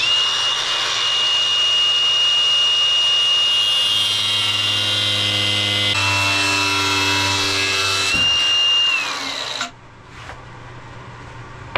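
A metal cutoff blade on a power tool cuts through wood, giving a loud, close, steady high whine with a lower grinding drone for about nine seconds before it abruptly winds down, leaving faint background noise.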